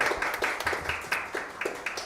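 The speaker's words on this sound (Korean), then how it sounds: "박수 한 번만 쳐볼까요?" A church youth-service congregation claps for its teachers, a brisk patter of hand claps from a modest group, moderately loud and continuous for a couple of seconds.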